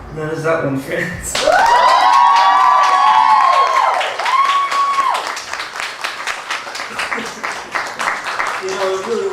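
A live audience at a small music venue applauds and cheers after a song, with a burst of clapping and shouts rising quickly, a whistle-like cheer ringing through, then scattered claps tapering off.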